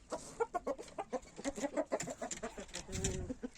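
Several roosters and hens in a coop clucking and calling in quick overlapping bursts, close and busy, with a rougher low squawk near the end.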